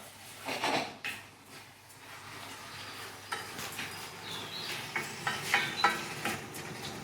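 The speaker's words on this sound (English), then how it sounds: "We add the paella rice, give it a little stir." Paella rice being stirred in a pan with half a tin of tomatoes, soft scraping and light sizzling with a few spoon-on-pan knocks, close and fairly quiet.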